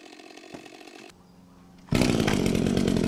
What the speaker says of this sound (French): En quelques coups de tronçonneuse,